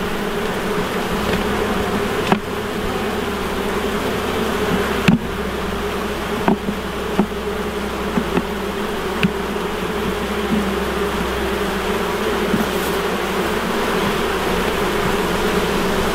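Honey bees during a hive inspection, a loud, dense, continuous buzz filling the whole stretch, broken only by a few faint clicks and knocks from handling frames.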